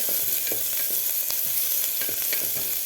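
Crushed fresh garlic cloves sautéing with onion in a pan for Kolhapuri misal, a steady close sizzle with scattered light stirring scrapes and clicks throughout.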